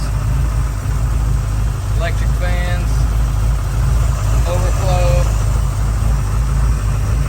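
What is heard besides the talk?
idling 351 Windsor Ford V8 engine in Case 1030 tractor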